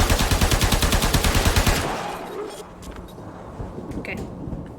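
Rapid automatic gunfire in the video game Warframe rattles loudly in a fast, even stream of shots for about two seconds, then cuts off, leaving quieter ambient noise with a few faint clicks.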